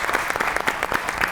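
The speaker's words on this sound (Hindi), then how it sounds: "बहुत सी तालियों में" A studio audience at a comedy talk show applauds a singer. Brisk, dense clapping from many hands sounds close and lively, with a faint voice underneath.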